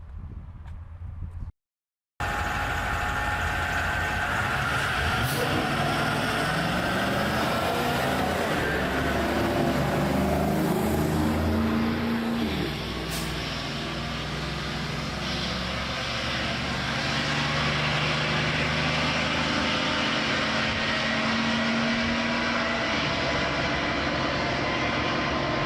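A diesel school bus and a Bluebird school bus with a 7.3-liter V8 propane engine race down a track. Their engines make a loud, sustained roar that swells and shifts in pitch as they accelerate, after a brief cut near the start.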